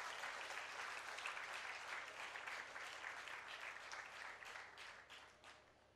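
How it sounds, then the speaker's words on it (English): An audience at a women's leadership awards ceremony applauds in a dense, steady wash of many clapping hands. The applause is loud and sustained, then thins slightly toward the end. "Can we please have a round of applause for the lovely audience here?"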